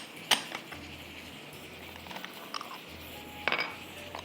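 Pots and utensils clatter in a home kitchen while mutton cooks in a pressure cooker: two sharp metallic clanks, one early and one near the end, with faint handling noise and a low hum between.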